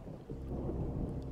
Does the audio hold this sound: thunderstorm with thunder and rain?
yes